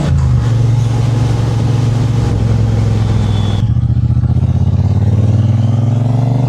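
A Triumph Bobber 1200cc motorcycle accelerates to overtake trucks on a road near Chiang Mai, its engine droning loud and close with rising pitch and steady throb, wind rushing throughout and no voices.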